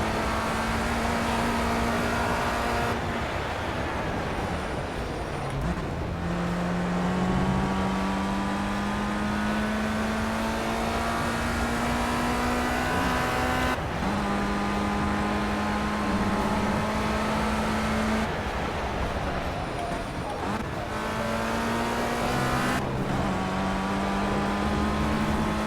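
A race car engine in Project CARS, driven in VR in the FR Euro Trophy at Donington Park, revs up steadily and drops at each gear shift, over and over, loud and continuous with no voices.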